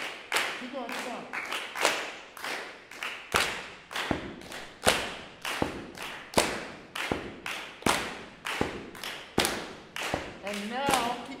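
A crowd keeps up loud, steady rhythmic clapping as the bass part of a group rhythm exercise, with evenly spaced sharp claps continuing throughout, close and dense.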